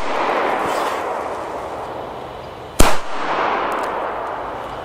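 A single Funke B Böller firecracker of 1.9 grams goes off with one sharp, loud crack, leaving a brief rumbling tail amid steady outdoor background noise.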